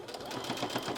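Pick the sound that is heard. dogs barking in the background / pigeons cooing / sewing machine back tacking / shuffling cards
sewing machine back tacking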